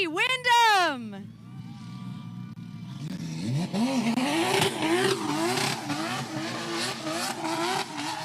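A 2JZ-engined BMW E46 drift car at a drift series competition revs hard in a rising and falling sweep, then keeps droning and revving under an announcer's steady commentary.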